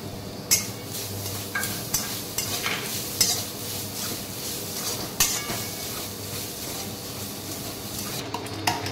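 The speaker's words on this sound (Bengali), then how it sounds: "এরপর আমি এই নারকেলটা হালকা করে আমি একটু ভেজে নেব" Grated coconut being lightly fried in a pan, with a low steady sizzle under sharp periodic taps and scrapes of a spatula on the metal every second or so, close and without talking.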